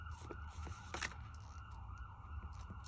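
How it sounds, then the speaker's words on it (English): A faint emergency siren wails steadily in the distance, its tone wavering as it passes, with soft background noise underneath. "Sorry about the sirens"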